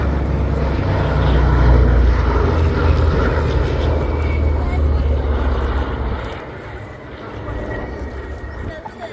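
The four-engine Boeing B-17 Flying Fortress 'Sally B' flying overhead at an air display: a loud, droning propeller roar that builds, holds, then fades, with someone talking over it.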